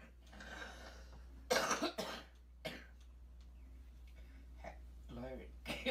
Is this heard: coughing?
yes